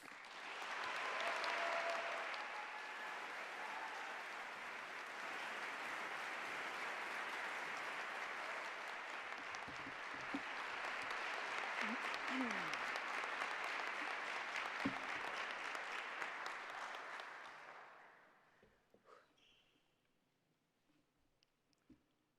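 Audience at an opening convocation applauding to welcome a speaker: a dense, steady wash of clapping from a large room that swells early, holds for about seventeen seconds, then tapers off into scattered claps and quiet.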